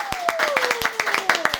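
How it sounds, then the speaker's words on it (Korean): A small studio audience clapping, quick close claps in an uneven patter, with a rising-then-falling tone running underneath. "박수!"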